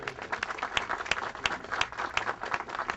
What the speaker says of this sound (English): Give Walter a round of applause.